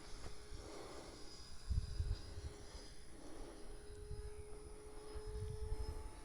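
A Freewing Cougar RC electric ducted-fan jet whooshes through the air at a distance, its steady whine rising and falling in a few passes with no voices over it.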